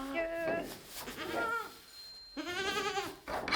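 Goats on a Swiss farm bleat in several loud, wavering calls near the listener, with a quiet gap before a long final bleat; faint background murmur underneath.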